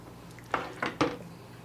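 A spoon scoops goulash from a pot, giving three soft, wet scrapes and clinks against the metal in quick succession, close and moderately loud with no talking.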